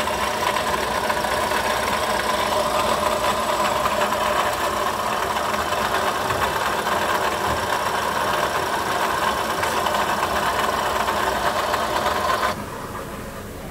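Toyota Sienta engine running rough, a steady loud mechanical drone with a dense rattling texture that holds for about twelve seconds and then drops to a quieter hum.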